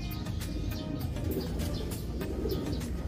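A pigeon coos nearby in a repeated low, throaty rhythm while faint chirps and outdoor background noise run beneath it, with no talking.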